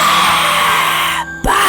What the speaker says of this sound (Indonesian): Teriakan itu persis di depan muka gue